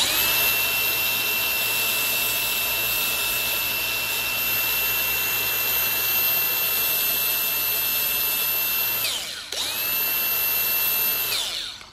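Small handheld grinder running continuously on car dashboard parts, a loud high steady whine that cuts out briefly near the end before spinning back up and winding down.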